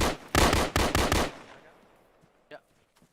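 Full-auto gunfire rips out in several close, loud bursts during outdoor training, then trails off into fading echo, with a faint distant pop afterward.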